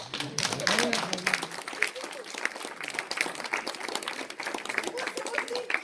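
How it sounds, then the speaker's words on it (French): Audience at a theatre play applauding, a crowd of hands clapping steadily for several seconds at moderate level, with a voice speaking over the start and some crowd noise underneath. "Allez, on l'applaudit"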